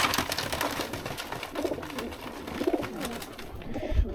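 Racing pigeons cooing before release outdoors in sunshine with hardly any wind, several soft overlapping coos close by over a broad outdoor rustle, with no talk.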